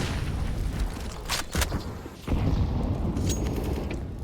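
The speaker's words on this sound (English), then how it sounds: "Ooh, that's a big nade." A grenade bursts in a Counter-Strike match on the map Vertigo, a dense rumbling boom over a steady roar of game noise, with a brief dip before the loud blast swells back in close and sustained.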